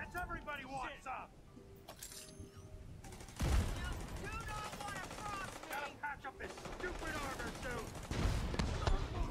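An automated turret in the shooter game The Division 2 lets off rapid bursts of gunfire through a busy firefight, with a voice speaking over the shots.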